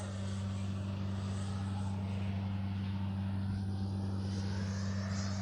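RC model L-39 jet at full throttle, a steady loud whine with a constant droning hum running unbroken throughout, no talk.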